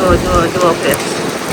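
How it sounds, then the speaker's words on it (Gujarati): Rain falling outdoors during a windy storm, a loud, dense hiss of drops striking surfaces nearby, continuous throughout with no voices. "જોઈ શકો છો તમે અહીંયા વરસાદ"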